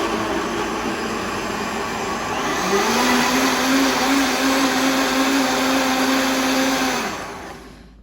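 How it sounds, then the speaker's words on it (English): A blender whirs as it purées a piece of onion with Knorr chicken bouillon for albóndiga soup, a loud steady motor drone that rises in pitch partway and winds down near the end. "So we're gonna blend this together."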